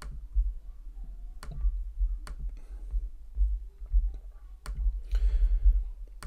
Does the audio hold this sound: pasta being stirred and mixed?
no